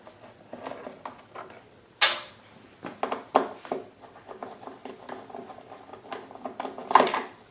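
Small Phillips head screws being backed out of the front cover of a Generac GP3300i inverter generator, giving a run of faint clicks, creaks and light metallic scrapes with a few sharper knocks, close up and with no talking.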